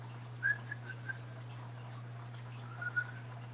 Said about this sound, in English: My cats come to whistles.